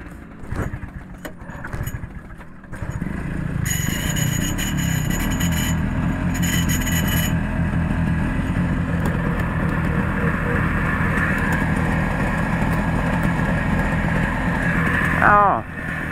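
Engines on a group of Terhi boats starting up and settling into a steady idle, with rattling and handling noises at first, then a continuous low rumble that fills the rest, a short squeal near the end.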